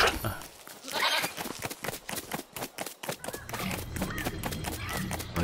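Sheep in the video game LEGO Fortnite bleat several times in short wavering calls amid footsteps and game noise, close and fairly loud, with a steady tone underneath.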